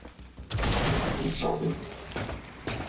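Game gunfire in XCOM Chimera Squad aimed at an Andromedon's armored shell, a loud sustained burst of shots over about two seconds with speech-like sounds mixed in, then a few sharper reports near the end.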